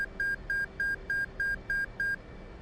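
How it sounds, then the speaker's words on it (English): Nine short, evenly spaced electronic beeps from an F/A-18C cockpit in a flight simulator repeat at a steady quick rhythm, clean and moderately loud, then stop. "That little beeping confirms that our FCS did pass its bit"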